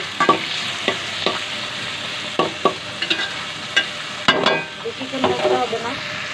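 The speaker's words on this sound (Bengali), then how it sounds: "আমি টমেটোগুলো হালকা ভেজে নেব" Tomatoes frying with browned onions in a pan, an intermittent sizzle broken by sharp clacks and scrapes of a utensil stirring, close and moderately loud with no voices.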